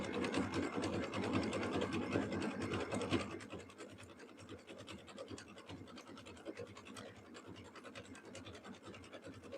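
A sewing machine stitches a round jelly roll rug with a steady, close, whirring run of rapid stitching, heavier and louder at first, then settling into a quieter hum, with no talking.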